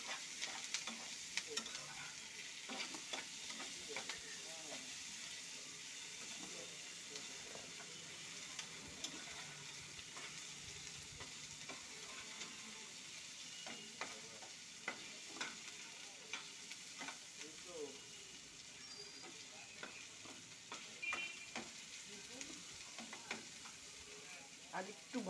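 Onion, coconut and tomato fry in a pan for a fish curry, giving a continuous soft sizzle broken by frequent clicking scrapes of a spatula stirring, with no voice.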